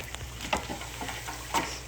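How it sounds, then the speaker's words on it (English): Steady crackling sizzle of plantains frying in oil, with a few louder pops and clatters from handling the pan. "See, over here frying up."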